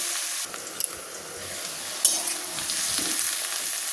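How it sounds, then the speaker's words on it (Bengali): Jackfruit pieces frying in a pan, with a continuous close sizzle, bursts of crackling and a few light scraping stirs. "আর একটু হালকা করে কাঁঠালটা ভেজে নেব"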